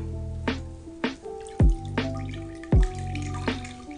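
Water dripping and splashing as a soaked Pikachu plush is wrung out, a handful of distinct drips and plops spaced irregularly, close and fairly loud against a quiet background.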